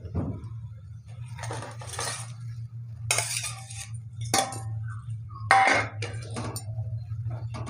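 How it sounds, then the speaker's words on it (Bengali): Fried paneer pieces dropped into a pot of simmering curry for a Bengali paneer matar, giving several separate clinks and soft plops over a low, steady bubbling hum, with no talking. "এখন আমি এই ভেজে রাখা পনিরগুলো দিয়ে দেবো।"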